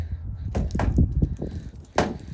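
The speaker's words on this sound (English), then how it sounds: "I opened the car door." A car door is opened with a few quiet clicks and light thumps, ending in a sharper latch-like knock.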